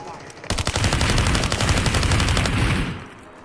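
Loud, continuous automatic weapon fire from the video game Super People, a rapid rattling burst lasting a few seconds before cutting off abruptly.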